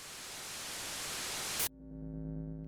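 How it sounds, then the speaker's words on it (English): A loud, dense gale of white noise from the video game Baldr Sky roars steadily for over a second, then cuts off abruptly into a humming electronic drone. "a gale of white noise sweeps over me"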